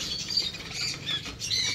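Lovebirds at a crowded bird market squawk in a steady flurry of shrill, overlapping chirps and squeals, close and lively throughout with no talking.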